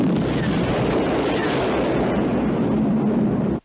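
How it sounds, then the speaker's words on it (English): Explosion closing a 1982 horror movie trailer, a loud, sustained roaring rumble that fills the whole clip before cutting off abruptly at the end. "the trailer ends with an explosion"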